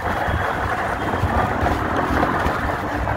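Strong wind blows steadily and loudly across the microphone outdoors beside a Citycoco Shineray electric scooter, a constant broadband roar with no talking.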